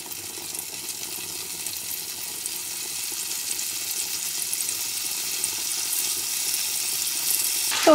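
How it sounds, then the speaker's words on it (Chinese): Tofu frying in cooking oil in a flat pan gives a faint, steady sizzle that holds evenly throughout, with a brief clatter right at the end and no voices. "咱们把豆腐给它煎一下。"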